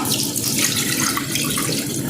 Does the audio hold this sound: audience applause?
no